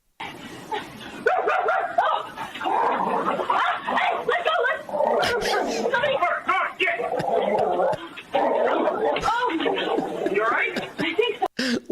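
A woman barks and yips in imitation of a dog while a real dog responds with barks and whimpers, the sounds dense and continuous, with laughter and talk mixed in.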